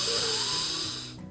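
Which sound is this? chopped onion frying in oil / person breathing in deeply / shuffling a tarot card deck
person breathing in deeply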